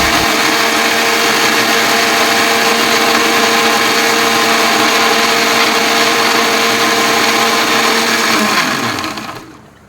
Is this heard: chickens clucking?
no